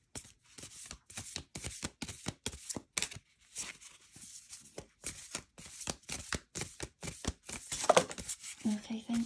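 Tarot cards are shuffled and drawn from a deck: a quick, irregular run of soft riffling and slapping bursts at close range, with faint rustling near the end.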